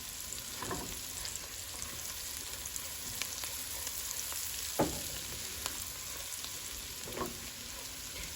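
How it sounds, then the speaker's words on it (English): Butter and oil frying in a pan on high heat for shrimp Alfredo, a steady close sizzle and crackle running throughout with a few sharper pops, no voices. "you guys can see right there the butter is burning"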